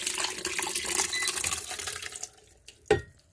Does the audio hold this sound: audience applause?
no